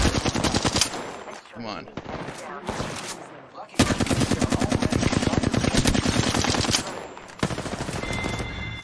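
Dense bursts of automatic gunfire from the Halo video game, loud and continuous with brief gaps, while a player's voice briefly calls out over the shooting.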